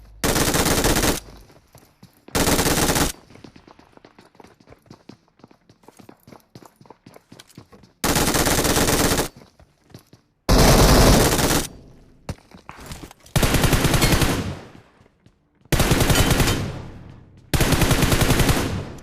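Machine gun fire in a battle royale video game, several loud sustained bursts of rapid automatic shots separated by short gaps, with quieter footsteps and shuffling in between.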